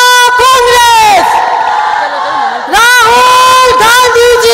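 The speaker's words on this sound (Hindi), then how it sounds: "हम सब जोरदार तालियों से जय जयकार करके इस पुस्तक का अनावरण करेंगे" A large crowd at a Mahila Congress Foundation Day gathering cheers and chants loudly in unison during a book unveiling by Rahul Gandhi, voices rising in repeated bursts with a short lull in the middle.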